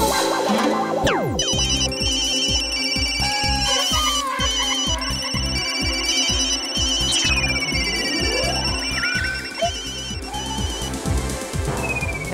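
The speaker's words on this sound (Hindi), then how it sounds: "अभी विकी को फोन लगाती हूँ।" A phone ringtone plays continuously, a bright electronic melody with repeating chimes and beeps, close and steady throughout.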